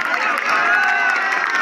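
Steady crowd applause and cheering at a kabaddi match between Amby Academy Bahadurgarh and CISF, a dense even wash of clapping that holds at constant loudness throughout with no voices standing out.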